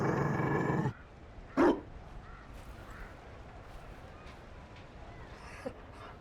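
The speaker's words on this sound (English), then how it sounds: "You found a dog." A Mabari war dog in Dragon Age: Inquisition gives a single short, gruff bark after a louder burst of game sound, then the scene falls to a quiet ambient hum.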